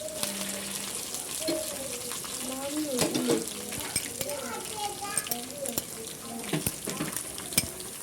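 Green chillies and garlic frying in a pan for mango pickle, a continuous sizzle with stirring clatter and occasional utensil knocks, a voice talking over it.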